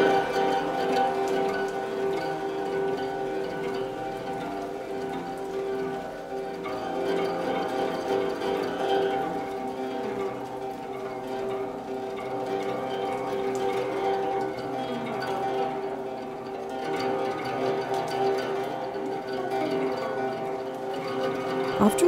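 Steady rain falls throughout, a continuous even wash of drops on surfaces, moderately loud and unbroken, with no voices present.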